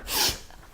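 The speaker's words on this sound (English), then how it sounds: "Achoo!" A cartoon sneeze bursts out once, short and breathy with a sharp onset, then trails into faint noise.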